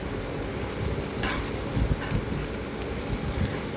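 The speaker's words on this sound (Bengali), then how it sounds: "চলো দেখি একবার সবজিগুলো ভাজা হয়েছে নাকি" Vegetables fry in a pan with a steady, close hiss, broken by occasional soft stirring scrapes and crackles, with no talking.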